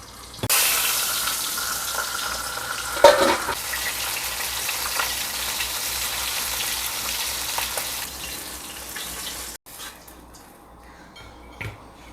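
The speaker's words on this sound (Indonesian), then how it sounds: "Digoreng." Fish frying in a pan of oil in a home kitchen, a loud, continuous crackling sizzle that flares up briefly as the fish goes in, then settles into a steady spatter before dropping off near the end.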